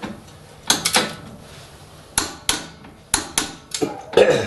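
Brake caliper bolts being tightened with a torque wrench set to 60 foot-pounds, a series of sharp metallic clicks and ratchet snaps arriving in irregular bursts, close and fairly loud, with a gap in the middle.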